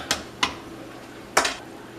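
Spoon scraping around a pot of pork and collard green stew while salt is stirred in: three short clanking scrapes, the last a double stroke, close and moderately loud with no talk.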